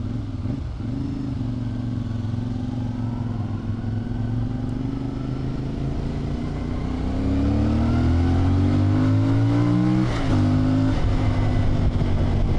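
A lightweight adventure motorcycle is ridden on the road, its engine droning steadily, then revving higher as it accelerates through the gears, with wind noise and no speech.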